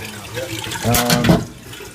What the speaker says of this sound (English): the only way to drain this is to unplug the end here